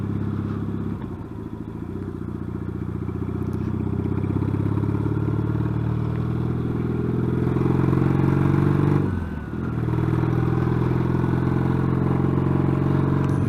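Yamaha XS650 motorcycle fitted with new peashooter exhausts, riding along with a steady, loud engine drone that holds mostly even, dips briefly near the end, then comes back strong.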